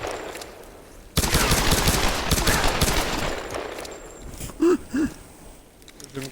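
Rapid gunfire empties a magazine in the Tomb Raider video game, a dense continuous burst of shots lasting about three seconds, followed by quieter game sounds and a couple of short tones.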